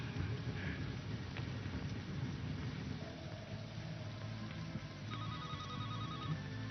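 A telephone rings faintly in a room, a short repeating electronic trill heard at a distance over a low background hum.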